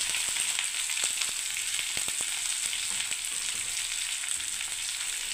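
Chopped onion with green chilli fries in a pan for a beetroot and carrot mixed vegetable dish, giving a steady bright sizzle with scattered small crackles throughout and no voices.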